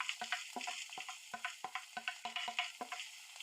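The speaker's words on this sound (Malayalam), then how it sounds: "ഇനി നമുക്ക് കുറച്ച് കറിവേപ്പിലയും ഒരു 2 മീഡിയം സൈസ് സവാളയാണ് അത് സ്ലൈസായിട്ട് അരിഞ്ഞത്, അത് നമുക്ക് ഇതിലേക്ക് ഇട്ട് കൊടുക്കാം." Sliced onions and curry leaves fry in a hot pan, a close bright sizzle broken by a quick run of stirring scrapes at a steady rhythm.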